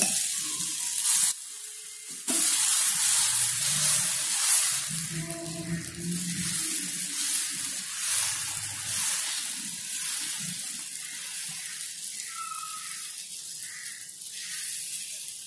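Dosa batter made from ration rice sizzles steadily on a hot griddle, with a loud hiss throughout and soft scraping and spreading sounds near the start.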